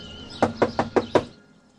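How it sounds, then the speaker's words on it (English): Five evenly spaced, sharp knocks on a door ring out in quick succession in a Star Trek scene, fairly loud and close, with no talking and quiet before and after. "Knock?"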